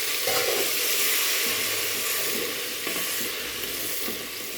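Tomatoes hit mutton frying in its stock and fat, sending up a loud, dense sizzle that stays close and constant, then softens slightly toward the end.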